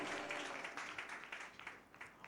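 Church congregation clapping hands in praise, a quick run of soft, rapid claps heard at a distance and fairly quiet throughout.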